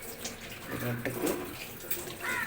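A masala-stained cooking vessel is rinsed with water, a short burst of splashing and running water heard close up while a person talks over it.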